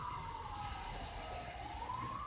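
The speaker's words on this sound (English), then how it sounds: "Hear a siren?" An emergency siren wails steadily in the distance, its pitch slowly sliding down and back up over a constant background rumble.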